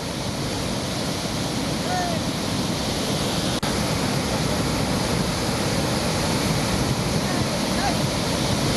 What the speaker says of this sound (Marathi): अजिंठा लेणीतल्या सातकुंड धबधब्यातील हे दृश्य आपण पाहतोय